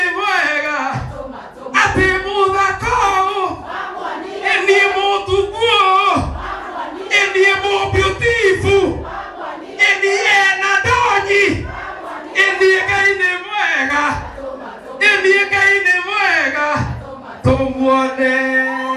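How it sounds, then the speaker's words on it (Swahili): Crowd at a church restoration dinner gives loud, sustained ululation and cheering, with high trilling voices in repeated surges close by and barely any pause. "Wapi shangwe endelee na vigeregere jameni"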